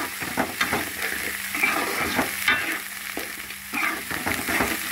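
Pieces of food hit hot oil with ginger-garlic paste in a frying pan, giving a steady sizzle with repeated scraping stirs and clinks of a spoon, close and fairly loud, with no talking.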